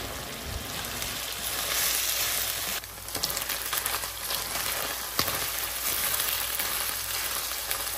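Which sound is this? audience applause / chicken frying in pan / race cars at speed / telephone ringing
chicken frying in pan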